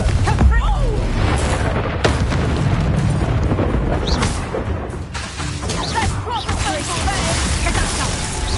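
A Confringo fire spell erupts in Hogwarts Legacy, with booming blasts and crackling impacts layered over a continuous roar of combat noise throughout.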